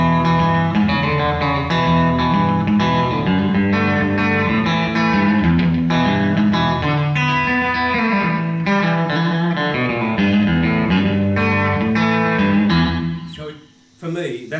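A distorted electric guitar through a Mini Bassman 1812 combo amp with boost plays sustained chords and melody with echoing short delay and reverb, full and loud throughout before cutting off at the end.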